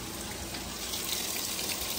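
Water pours steadily into an older Roper top-load washing machine as it fills, a constant close rushing hiss with no pauses or voices.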